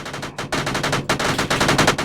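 Heavy machine gun fire in the military shooter ArmA 3, sustained rapid bursts of loud, close automatic shots broken by two short gaps, with no talk over it.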